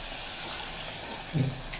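A tumbler of water poured into a pan of bottle gourd kootu as it cooks, a soft steady wash of liquid with a brief heavier splash near the end.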